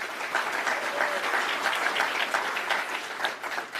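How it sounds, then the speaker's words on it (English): Steady applause from an audience at a press conference in Surrey, BC, dense clapping that fills the whole stretch at an even, fairly loud level. "Give them a round of applause, please."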